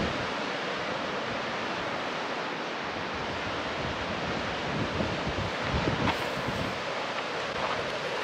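Ocean waves wash onto a beach below a steep cliff path, a broad continuous roar of surf with a swelling surge near the end, mixed with wind buffeting the microphone.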